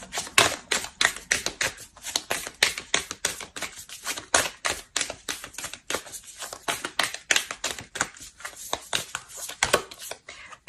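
Oracle cards being shuffled, a rapid run of crisp close slaps and riffles repeating in tight bursts throughout, with no talking.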